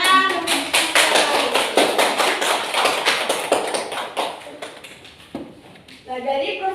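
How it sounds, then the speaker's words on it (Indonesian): A group claps together in quick, rhythmic patterns at a school teachers' dissemination session on positive culture. The claps run loud and close, then give way to brief voices near the end. "Tepuk tangan."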